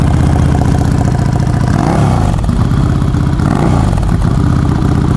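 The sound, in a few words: motorcycle engine idling with aftermarket exhaust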